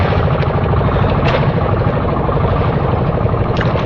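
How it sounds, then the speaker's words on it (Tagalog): Steady, loud drone of a small island-hopping boat's motor running continuously up close, with a dense low rumble and no breaks or voices. "umandar na yung makina ulit"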